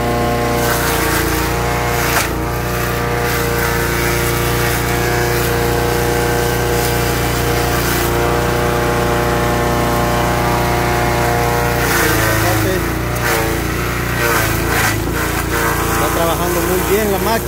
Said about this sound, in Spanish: Y parece que está funcionando de maravilla la máquina. Miren cómo está cortando el zacate.